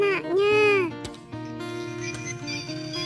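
A small toy calf gives a squeaky electronic moo with a falling-and-rising tone, followed by a bright tinkling toy melody, close and clear.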